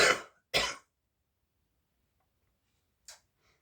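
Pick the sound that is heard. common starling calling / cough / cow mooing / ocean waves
cough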